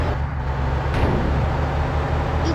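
A car engine drones steadily while driving in the video game Bus Simulator India, an even, continuous motor hum with no talking.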